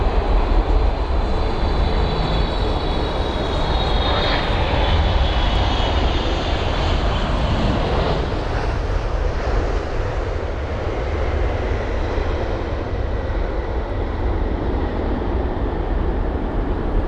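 British Airways Airbus A350 airliner in Star Wars Galaxy's Edge livery from Sao Paulo, its engines a steady, loud roar at London Heathrow that holds throughout without pause.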